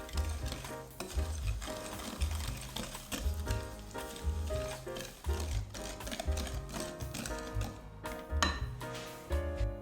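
A hand whisk beats two whole eggs with white sugar in a bowl: close, steady rhythmic scraping and metallic clinking of wire against the bowl, continuous and unvoiced.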